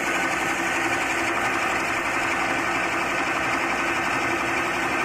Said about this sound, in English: So in this way I am doing knurling operation on a given workpiece.